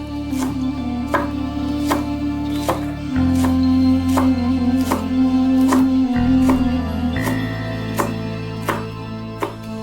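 A knife chops the white part of an onion into quarters on a cutting board, about a dozen evenly spaced, crisp thuds over a steady background hum, with no talking.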